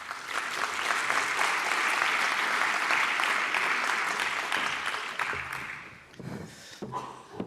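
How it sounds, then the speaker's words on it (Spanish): An audience at a cybersecurity conference in the Basque Country applauds to welcome a speaker, loud and continuous clapping that fades out toward the end. "Le recibimos con un fuerte aplauso."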